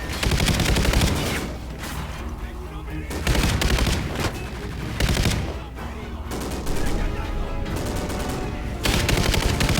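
Sustained bursts of Vector submachine gun fire in Call of Duty: Ghosts, loud and close, broken by brief pauses between volleys, with occasional booms and battlefield noise mixed in.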